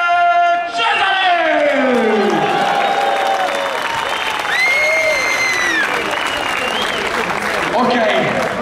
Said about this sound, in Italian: un bel applauso, fuori la voce, fuori le mani per Simone